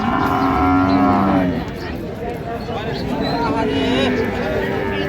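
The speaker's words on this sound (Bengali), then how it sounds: "বেশ সুন্দর গাভী বাছুর দেখছিলাম এখানে" Cows and calves at a cattle market moo loudly and close by, one long drawn-out low moo followed by further lowing, over a busy background of people talking.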